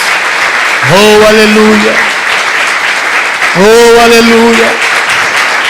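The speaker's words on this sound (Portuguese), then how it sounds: "Você pode aplaudir esse Deus." A church congregation applauds through a Sunday service in a loud, continuous wash of clapping, while a voice shouts praise over it twice.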